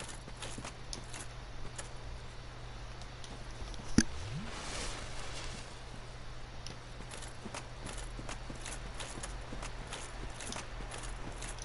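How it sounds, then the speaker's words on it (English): Footsteps echo behind the player in Dark Souls, a steady run of soft, evenly spaced steps under a constant low hum, with one sharper knock standing out partway through. "You heard footsteps behind me as well."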